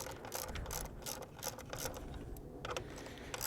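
A hand ratchet clicks rapidly while tightening the bolts on factory fog lights being installed on a Chevrolet Sonic. The quiet, close ratcheting comes in short repeated bursts of clicks with brief pauses.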